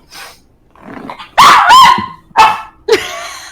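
A dog barks aggressively at close range: a low growl builds into several loud, harsh barks in quick succession, the last trailing into a whine.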